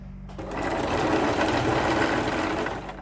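An electric sewing machine runs steadily, stitching a quarter-inch seam along a cloth face mask, its continuous whir loud and close after a brief quiet start.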